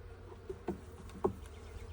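A dense hum of many honey bees buzzing close by at an open hive, with a couple of brief louder passes as individual insects fly near.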